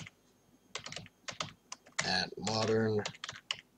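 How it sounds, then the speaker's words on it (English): Typing on a computer keyboard at a desk gives bursts of clicky keystrokes, close and fairly loud, with someone briefly speaking over the typing midway. "Hopefully you can hear me. I'm typing on the keyboard."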